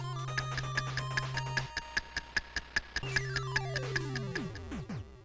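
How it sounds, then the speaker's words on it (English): An unused looped clock bomb countdown from Super Smash Bros. Melee ticks in a steady, evenly spaced electronic rhythm over a low tone, with descending sweeping notes sliding down near the end. "There's also an unused audio file to accompany this item titled Clock Bomb Count, which is just a looped ticking sound."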